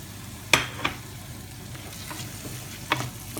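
Boiled-style sweet corn kernels frying in a pan with salt and pepper for Indian-style white sauce pasta: a low continuous sizzle broken by a few sharp clacks of a spoon against the pan.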